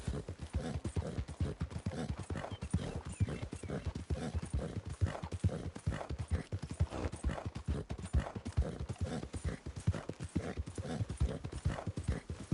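Horse hooves clip-clop steadily in Red Dead Redemption 2, a continuous rapid rhythmic clatter of hoofbeats, loud and close throughout, with faint voices underneath.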